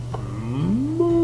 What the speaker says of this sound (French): Mouh! Il y a une vache.